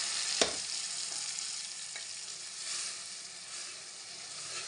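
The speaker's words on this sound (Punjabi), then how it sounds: "ਹੁਣ ਆਪਾਂ ਇਹਦੇ ਵਿੱਚ ਪਾ ਦਿੰਦੇ ਹਾਂ ਮਸਾਲਾ ਪੀਸਿਆ ਹੋਇਆ" Ground masala spice sizzling in hot oil with cumin for a pea and potato dish, a steady broad hiss with one sharp clink near the start and faint stirring knocks, no voices.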